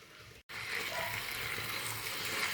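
A corn flour and water mixture is poured into a cabbage dish in the pan, giving a steady liquid pour and sizzle that starts abruptly after a brief silence and holds evenly to the end.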